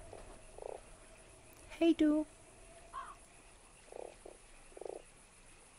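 A toad croaks in the point-and-click game Fran Bow, several short low throaty croaks spaced across the stretch, with a brief spoken greeting in the middle.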